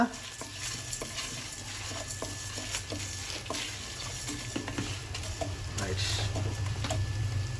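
Bitter gourd pieces stirred and fried in a pan, a continuous sizzle with repeated scraping strokes of the spatula, close and fairly quiet, building slightly louder toward the end.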